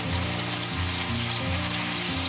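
Tofu fries in hot oil in a smoking iron wok over medium heat, giving a steady, dense sizzle that is close and continuous throughout, with no talk.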